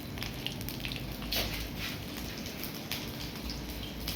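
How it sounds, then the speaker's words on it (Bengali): Fish fries in a pan over a gas stove in a home kitchen, a steady soft crackling sizzle with scattered pops, continuous and fairly faint throughout. "এই যে এখন মাছ ভাজি হচ্ছে।"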